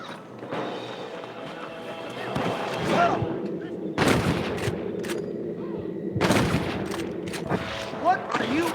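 Gunfire in the Red Dead Redemption video game: repeated loud shots crack out amid a shootout at a camp, with sharp bursts near 4 and 6 seconds, horse hooves and in-game voices between them.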